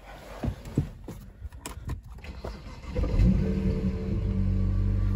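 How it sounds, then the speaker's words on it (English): A BMW 335xi with a 6-speed manual cold-starts and idles a little rough, starting with a few clunks and knocks before the engine catches at about three seconds and settles into a steady, loud, close rumble. "It's a cold start. It's got, I mean, the cold starts are a little rough."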